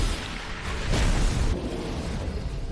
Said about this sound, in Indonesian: Ledakan besar terjadi tapi serangan itu gak berefek sama sekali